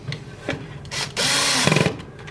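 A power drill with a small bit drives little screws into a cabinet during assembly: short bursts of whirring close by, then a longer, steady high buzz that ends in a few ratcheting pulses, with no voices.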